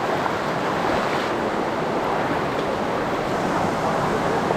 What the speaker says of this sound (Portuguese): vamos na Cachoeira Beija-Flor